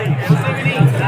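Large crowd of devotees, roughly one to two lakh, gathered at Mehandipur Balaji temple, heard as a dense, continuous murmur of many voices with a low steady rumble underneath.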